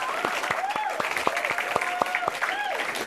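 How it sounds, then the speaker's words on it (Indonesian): Audience clapping during an applause contest at a comedy roast battle, a dense run of claps mixed with a few individual sharp ones, with voices and cheering mixed in throughout. "Aku minta ke penonton siapa tepuk tangan yang paling kencang itu ya yang juara"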